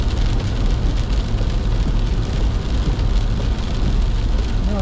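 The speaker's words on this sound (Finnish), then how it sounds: "Vesisade voisi kyllä nyt tauota tässä" Heavy rain falls on a car driving in Finland near Parkano, a loud, steady hiss of water and road noise throughout with no let-up.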